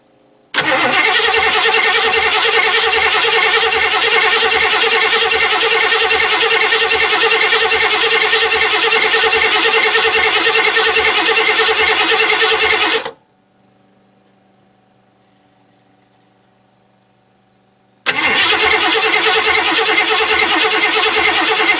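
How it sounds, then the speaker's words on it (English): A Ford Granada engine cranks with a rapid, rhythmic churning of the starter, stops for several seconds of near silence, then cranks again without catching. "Let's throw a battery in this thing and see if it'll fire up."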